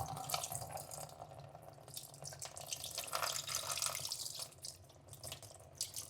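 Soaked white beans are drained in a kitchen sink as water runs and splashes steadily from the tap, a continuous close rushing stream with small spattering variations throughout.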